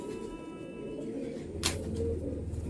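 A female patta pigeon with golden eyes gives a low, soft coo close by against a steady background hum, with one brief sharp tick partway through.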